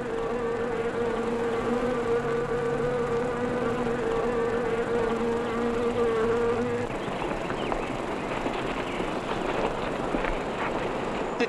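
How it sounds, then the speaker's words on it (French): Wasps at a wasp-breeding site buzzing loudly and continuously: a steady droning hum at first that turns into a thicker, rougher swarm buzz partway through, with no voices. "Dites-moi, Zintrop, c'est quoi cette histoire insensée d'élevage de guêpes?"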